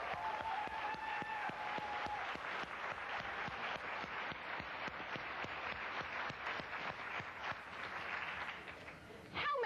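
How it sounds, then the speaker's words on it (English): An audience at a motivational seminar applauds together, a dense wash of many hands with distinct individual claps standing out, continuous and fairly even throughout, a brief louder burst at the very end. "I'd like you to join me and give yourselves a round of applause"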